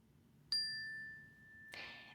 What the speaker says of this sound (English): I'm just going to gently play the bell once.